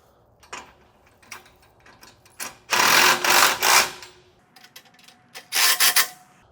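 A socket and ratchet or impact tool tightens the bolts on a standard kayak launch, giving short bursts of loud, rapid mechanical rattling separated by quieter clicking and pauses.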